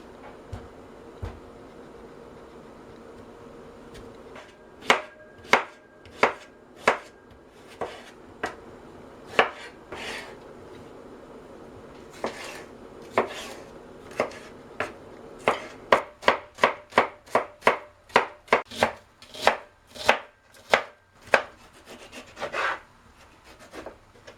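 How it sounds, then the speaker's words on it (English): A knife slices zucchini on a cutting board for ratatouille, with sharp, close chopping taps, sparse at first and then quickening into a steady, rapid rhythm. "Now let's slice zucchini."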